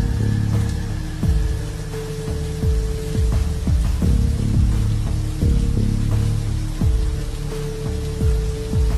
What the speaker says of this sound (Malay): tunggu hujan berhenti